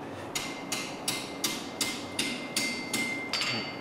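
Blacksmith's hammer striking hot metal on an anvil in an art ironwork class, eight evenly spaced ringing blows about half a second apart, close and clear with a faint metallic ring after each strike.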